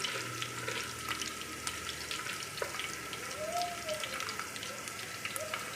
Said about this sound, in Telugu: ఆనియన్ పచ్చిమిర్చి కట్ చేసి వేసుకున్నానండి. అవి బాగా కొంచెం ఫ్రై అయిపోయిన తర్వాత జీలకర్ర, బిర్యానీ స్పైసెస్ అన్నీ యాడ్ చేసుకోవాలి